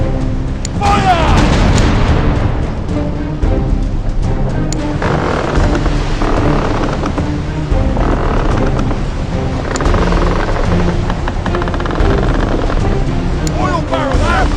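Cannons boom and explosions burst repeatedly through a naval battle video game, loud and dense over a continuous rumble, with a voice shouting commands between the blasts.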